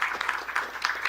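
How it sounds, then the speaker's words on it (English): Brief burst of audience applause at a business succession and investment conference, dense rapid clapping from a room of people, loud and close, with no voices. "I'd like to give another thank you, a nice round of applause for Chris."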